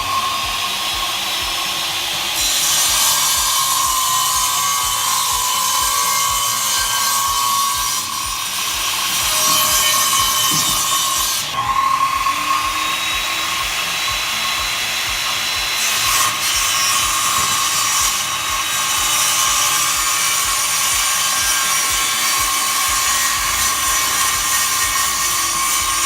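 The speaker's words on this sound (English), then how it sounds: "They got the big saws." Big saw cutting wood at a Home Depot store, a loud sustained whining drone that rises and falls across several passes, with shop background noise and no talk.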